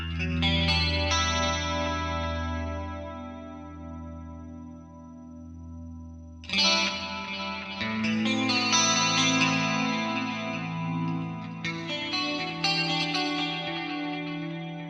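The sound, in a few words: clean electric guitar with delay and reverb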